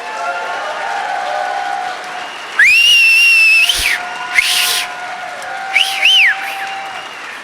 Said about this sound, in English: let's have a crazy, enthusiastic round of applause.